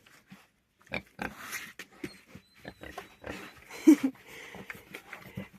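Vietnamese pigs eat lavash bread, giving short, irregular grunts and snuffling sniffs close by at moderate loudness, with brief pauses between the bursts.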